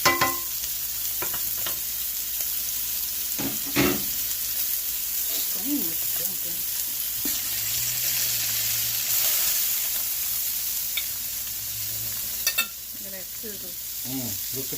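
Steak sizzling in a pan with onions and green onions added, a steady close frying hiss with occasional stirring clinks and scrapes, while a person talks now and then.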